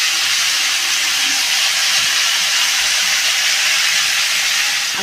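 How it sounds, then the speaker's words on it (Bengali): Meat frying in a pan for a spiced kosha curry, a loud continuous sizzling hiss, steady and close, with no talking. "মাংসটা আমার প্রায় ভাজাই হয়ে গেছে, দেখুন।"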